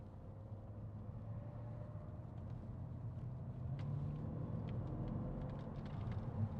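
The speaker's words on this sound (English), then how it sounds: "Listen to that engine." A 2010 Mercedes-Benz E500 V8 Sport Cabriolet with automatic transmission idles with a steady low rumble, swelling slightly louder partway through and holding a continuous deep drone, with no voices present.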